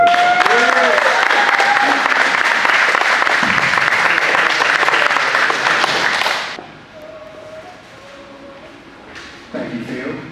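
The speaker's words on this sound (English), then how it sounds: "Let's give them all a big round of applause." Loud, sustained applause fills a graduation ceremony for the graduates, steady for about six seconds before dropping off sharply to a quieter room tone with a short final swell of sound.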